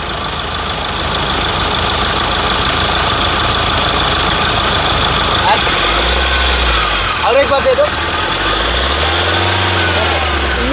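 A 2016 Mahindra Scorpio S4+ engine idles loudly and close, then is revved twice with the accelerator, each rev swelling and falling back, while voices talk over it.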